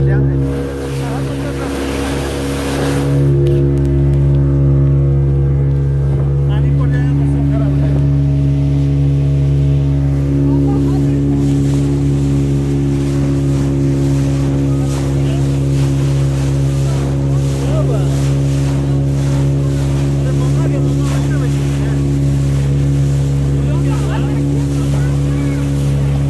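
A motorboat ride on the reservoir at Maithon Dam, with the engine's loud, steady drone running throughout alongside wind and water noise.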